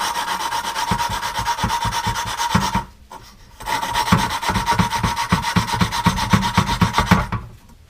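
An intake valve being lapped into a Briggs & Stratton mower cylinder head, giving a steady rhythmic rasping grind of back-and-forth strokes. The grinding pauses briefly once, then resumes, and is heard close with no talk.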